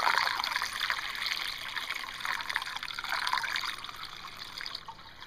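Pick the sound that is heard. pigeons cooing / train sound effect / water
water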